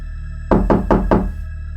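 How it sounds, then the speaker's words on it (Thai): Four firm knocks on a bedroom door in a house, evenly spaced and close, over a steady background hum with no voices. "คุณพ่อเคาะประตูห้อง"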